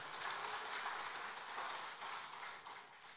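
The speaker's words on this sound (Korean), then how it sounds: "찬양받기 합당하신 영원하신 삼위 하나님께 영광의 박수 올려드리겠습니다." A church congregation gives a soft, steady round of applause during a Sunday morning worship service, heard faint and distant with an even, rain-like patter throughout.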